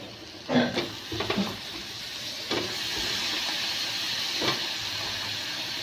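Spices including chilli powder, Maggi masala and turmeric fry in a pan for a mixed potato, pea, cauliflower and brinjal dish, with a steady sizzle and a few scraping stirs near the start and at intervals.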